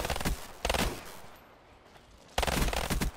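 Bursts of rapid automatic gunfire in Black Ops 3 zombies on the Nuketown map, two quick volleys, a lull, then sustained loud firing again.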